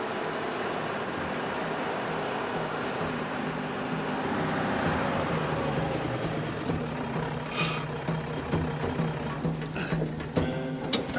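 A truck rumbles along a mountain road in Iran, its engine a steady low drone with mechanical clanking and rattling that builds and sharpens toward the end as it draws near.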